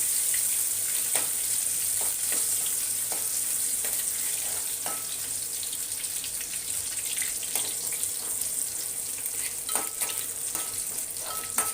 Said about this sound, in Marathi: कांदा चांगला ना भाजून घ्यायचा आहे तेलामध्ये कच्चा नाही ठेवायचा कांदा